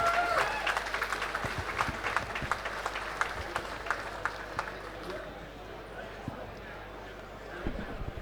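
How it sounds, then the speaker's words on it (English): Crowd applause rolls on steadily for fighters in the ring at a combat sports event, dense clapping and cheering with an announcer's voice over it. "gentlemen, a big round of applause for both of these warriors in the ring this evening"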